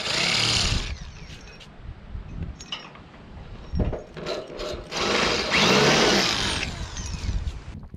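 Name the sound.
hammer drill drilling concrete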